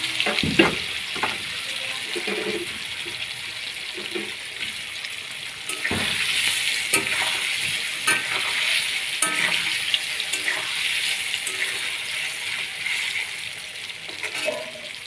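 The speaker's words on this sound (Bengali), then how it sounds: "তো পনিরগুলো ভাজা হয়ে যাচ্ছে" Paneer cubes fry in hot oil in a wok, a steady bright sizzle broken by scrapes and clinks as a spatula stirs and turns them, loud and close, with no one speaking.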